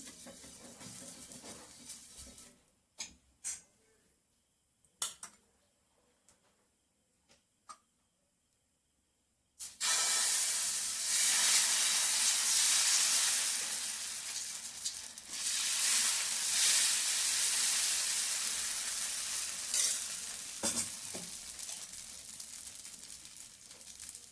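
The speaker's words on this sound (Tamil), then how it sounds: "இப்போ அடுத்த தோசை ஊற்றிக்கலாம்" Dosa batter sizzling on a hot pan, a loud steady frying hiss that starts abruptly after a quiet stretch of scattered clicks and light taps, then continues with small variations, no talking.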